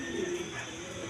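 A pair of Bombay pigeons sitting on eggs coos close by, a short low throaty phrase with faint room noise behind it.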